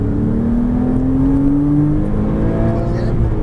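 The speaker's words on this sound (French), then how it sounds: "on accélère à fond" A Porsche Cayman S accelerates at full throttle on a racing circuit during a stage sprint, a loud, close engine whine climbing steadily in pitch for a few seconds.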